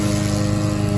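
A lawn mower cuts a yard ahead of an approaching storm, with a loud, close, steady engine drone and a constant harmonic hum.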